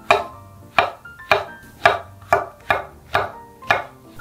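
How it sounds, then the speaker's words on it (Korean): A knife chops thick slices of shiitake and king oyster mushrooms on a cutting board in eight crisp, evenly spaced strikes, close and clear with no talking. "표고버섯도 너무 얇지 않게 좀 도톰하게 잘라주세요"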